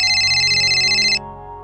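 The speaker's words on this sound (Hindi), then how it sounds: "ले फोन आ गया।" A mobile phone ringtone rings loudly and steadily in an indoor room for about a second before cutting off abruptly, leaving a low background hum.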